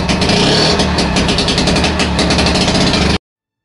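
A pony starter engine runs loud and close with a harsh, fast, steady mechanical clatter and buzz for about three seconds before it cuts off abruptly.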